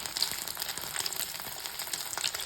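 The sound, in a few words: fish frying in hot oil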